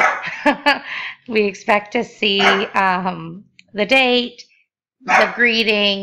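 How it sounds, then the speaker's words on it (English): A dog barks and yips a few times in short bursts behind a person speaking steadily at close range. "that's my dog."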